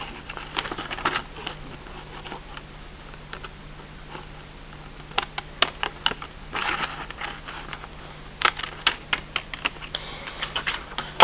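Sharp, irregular snips of scissors cutting paper for a birthday card, sparse at first and then quicker clusters of crisp clicks, close up and alone.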